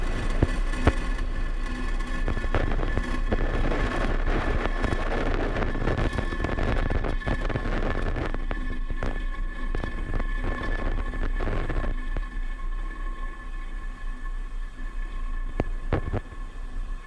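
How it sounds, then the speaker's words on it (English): Falcon 9 rocket engines roar through liftoff and ascent in a broad, continuous rumble that stays loud and unbroken throughout, with crackling bursts and a steady low drone beneath. "engines full power, and liftoff of Space Development Agency 0B"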